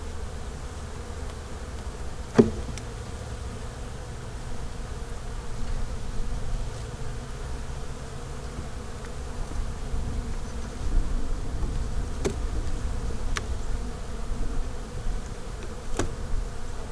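Honeybees buzzing at an opened hive in January, a steady soft hum with a few individual bees droning close past, and no talk.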